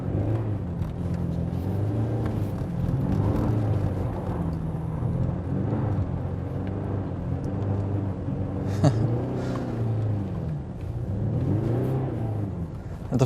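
A 2023 Mercedes-AMG GLC 300 drives diagonally across ice with ESP off, its engine droning and revving in rising and falling waves over a steady cabin rumble, heard from inside.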